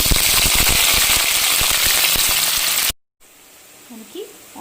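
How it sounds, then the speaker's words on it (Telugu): Onions and chillies sizzle loudly in hot oil in a kadai, a dense steady crackle for about three seconds that cuts off abruptly, followed by quiet room sound with faint scattered noises. "మనకి ఆనియన్ ఫ్రై అవుతుందండి"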